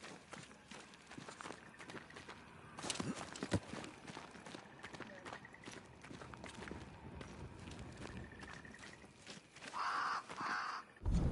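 Crow caws from the Banishers: Ghosts of New Eden video game, a few harsh calls sounding over soft game ambience, footsteps and movement noise, with a brief louder burst near the end.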